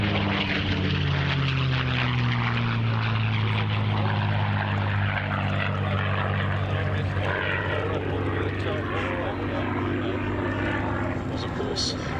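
A Packard Merlin-powered P-51 Mustang flies overhead at an airshow, its propeller engine producing a loud, continuous, deep droning roar that holds steady throughout with a slight pitch shift as it passes.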